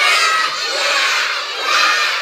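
Several children bleat together in imitation of a goat, a loud, dense chorus of young voices rising and falling over about two seconds in a classroom activity on animal sounds.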